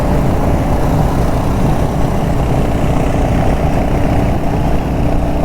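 A Royal Enfield motorcycle engine idling at night on a road trip, a loud, steady low rumble that holds unchanged throughout, close by and alone without voices.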